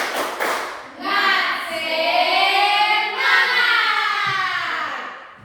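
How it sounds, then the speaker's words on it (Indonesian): A school class does a rhythmic spirit clap, the children's voices chanting together loudly and close with sharp hand claps mixed in, a few quick claps first and then a sustained group chant. "Oke, kita tepuk semangat. 1, 2, 3. Tepuk semangat."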